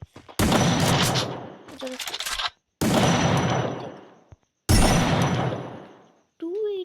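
An M10 fires in a video game shooter: three long, loud bursts of rapid automatic fire separated by short gaps, with a brief spoken word and a faint game sound at the end.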